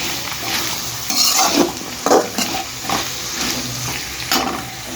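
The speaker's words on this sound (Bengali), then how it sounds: "পেঁয়াজটা হালকা একটু নরম করে নেব।" Onions frying in a small amount of oil as they soften in a pan, with a steady close sizzle broken by occasional scraping stirs from a spatula.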